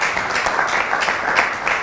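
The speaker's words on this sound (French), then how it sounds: "Je pense que ça mérite quand même des acclamations" Brief steady applause from a studio audience on a television show, a dense wash of clapping with no one speaking over it.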